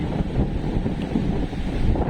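Strong wind rushes steadily with the wash of stormy sea waves beneath it, along a forested coast, a dense, constant roar with no voices.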